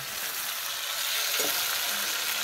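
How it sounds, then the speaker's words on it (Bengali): Cauliflower fries in oil over a wood-fired stove, giving off a continuous, even sizzle at moderate volume with a faint knock partway through. "ভালো সুন্দর ভাজা হয়েছে।"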